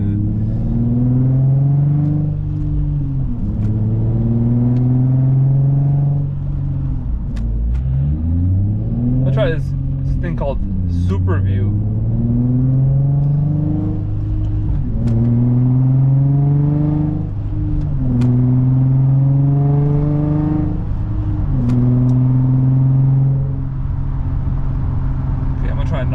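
Infiniti G35 engine with a lumpy, cammed-sounding idle and rev, steady loud harmonic drone rising and falling through repeated throttle blips, with a person talking over it.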